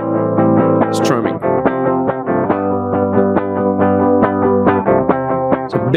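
Heavily distorted electric guitar strummed in big open chords through a Studio One Ampire amp simulation, loud and dense with sustained ringing and a few sharp pick attacks, played alone.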